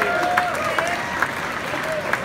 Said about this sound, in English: Let's give Sam a round of applause.